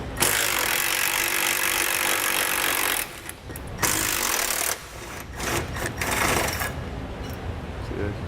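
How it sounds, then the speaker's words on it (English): Hitch installation on a 2007 Subaru Forester, with a 17 mm socket backing out the frame-rail bolts: a loud, sustained buzzing rattle of a power tool that breaks off briefly partway, then resumes in shorter choppy bursts. "Now we can grab our 17, and we need to take out the 3 bolts that run right up our frame rail here."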